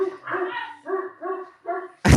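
A dog barks repeatedly at close range, five or six sharp barks in an uneven rhythm, followed by a brief loud burst of noise at the end.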